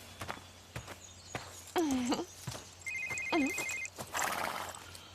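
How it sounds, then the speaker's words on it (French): A telephone ringtone chirps in repeated electronic trills, with a sustained tone between bursts, set near horses on a farm; hoof clops and footsteps sound in the background and no one speaks. "Jerry, ton téléphone, tu veux que je décroche?"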